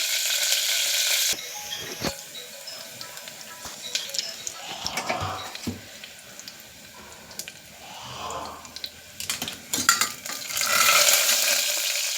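Crushed garlic and cumin fry in hot oil for sambar with an uneven crackling sizzle that swells and fades, mixed with stirring scrapes and clinks of a pot, close up with no voices.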